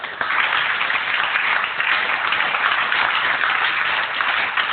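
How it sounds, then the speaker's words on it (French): Steady applause from a congregation during a church service, a dense, even wash of clapping lasting several seconds at moderate loudness with no pauses. "On acclame Jésus."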